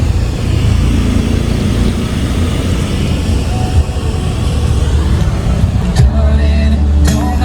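Steady road traffic rumble with passing cars and buses on a road near Bolinao, loud and continuous, with a brief harsher engine swell near the end.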